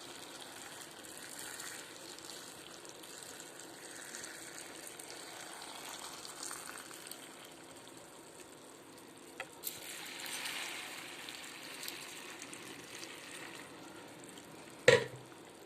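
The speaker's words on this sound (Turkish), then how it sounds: "içerisine fukur fukur kaynayan suyumu ilave ediyorum" Boiling water is poured into a jar of pepper pickles as a soft, steady rushing splash that swells midway and ends with a sharp knock.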